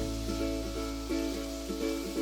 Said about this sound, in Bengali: গ্যাসের ফ্লেমটা মিডিয়াম টু হাই রেখে পেঁয়াজগুলো ততক্ষণ ভাজবো যতক্ষণ না নরম হয়ে আসে